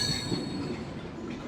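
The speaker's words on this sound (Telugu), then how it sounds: "సీతాఫల్ మండి స్టేషన్కి మన ట్రైన్ చేరుకుంది." A DEMU local train on the Kacheguda-Nadikudi run rolls into Sitafal Mandi station, a steady close rumble of wheels on rails with a faint high squeal, heard from aboard with no talk.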